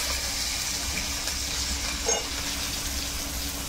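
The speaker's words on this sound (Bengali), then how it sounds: "কড়াইতে তেল দিয়ে একটু 5 ফোড়ন দিলাম, আর দেবো এবারে একটু পেঁয়াজ কুচি আর রসুন কুচি" Chopped onion and garlic with panch phoron five-spice frying in hot oil in a kadai produce a steady, close sizzle with a small splash of stirring partway through.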